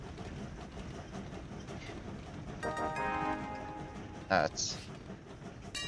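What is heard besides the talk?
trains running on tracks in the video game Train Valley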